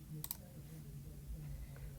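A pair of quick, faint mouse clicks land close together near the start, then a quiet room hum carries on.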